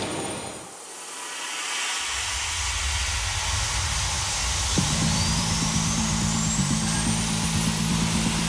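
An aircraft jet engine being washed roars with a steady, loud broadband rush of steam and spraying water, joined midway by a sustained droning tone, with no voices.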